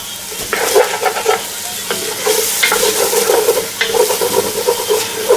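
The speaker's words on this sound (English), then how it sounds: "we'll throw in them onions, and that's going to help deglaze that pan a good bit" Onions sizzle loudly in a hot pan just used to brown round steak, while a spoon stirs and scrapes to deglaze the bottom, with steady frying crackle and irregular scraping strokes, and no voices.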